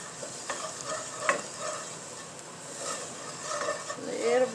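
Flour being stirred into a sizzling pan of fat, with a soft steady frying hiss and scraping stir strokes close by.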